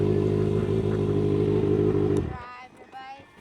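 A motorcycle being ridden during clutch-up and emergency braking practice gives a loud, close engine drone that cuts off abruptly partway through, leaving faint rattles and background sounds.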